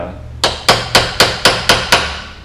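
A hammer strikes a chisel driven into the rubber bushing of a front upper control arm on a Mazda MX-5 or RX8, giving seven sharp, evenly spaced metallic blows at close range with no talking.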